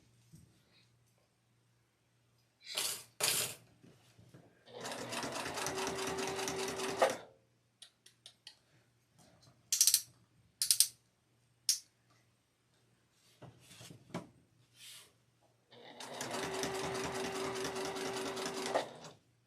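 Sewing machine stitching binding onto a quilted placemat, running in short bursts and two longer steady runs of rapid mechanical whirring, separated by clicks, pauses and small handling sounds, close and clear.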